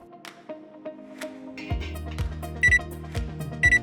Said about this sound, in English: Set another timer for 1 minute.